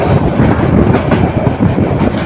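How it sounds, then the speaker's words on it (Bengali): The Mohanagar Provati Express, coming from Kamalapur, enters Dhaka Airport railway station. A loud, close, continuous rumble carries rhythmic clickety-clack of wheels over rail joints. "বিমানবন্দর রেল স্টেশনে প্রবেশ করছে ট্রেনটি"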